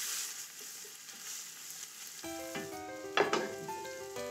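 Tomato passata is stirred into a sizzling pot of braised short ribs, a soft frying hiss at first, then a louder crackling sizzle once mixed in, with one sharp scrape of the spoon near the end.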